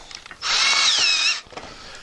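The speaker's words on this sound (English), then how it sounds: "we're going to have to drill through the top of these" A power drill bores a hole while fitting a restroom light, a single close high-pitched whine lasting about a second, framed by light handling clicks.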